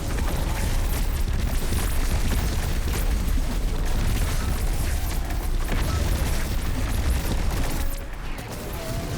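Explosives detonating in the Destiny 2 video game, a dense, sustained roar of rumbling blasts and crackling bursts filling the whole span at steady loudness, easing slightly near the end.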